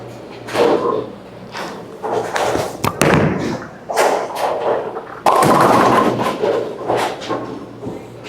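An emerald-and-black bowling ball thrown down a lane at a bowling alley, a series of loud rolling rumbles and thumping pin crashes repeating over several seconds, with faint voices in the background.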